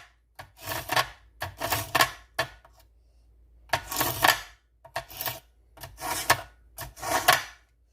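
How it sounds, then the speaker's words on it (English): A blade is sharpened with repeated rasping strokes that come in rhythmic bursts of two or three, separated by brief silences, close and fairly loud, with no voices. "So let's see if I can sharpen this enough."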